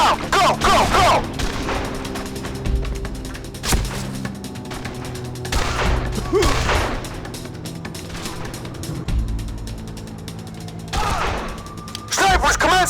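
Sniper gunfire in the third-person shooter Made Man, with scattered loud shots and mechanical clatter over a steady game background, close and fairly dense.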